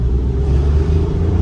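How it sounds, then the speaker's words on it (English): A Suzuki Alto Works small car engine runs with a steady, loud, close, low rumbling drone, holding an even pitch without clear revving swings. No voices. "I'm absolutely loving the way this car sounds right now."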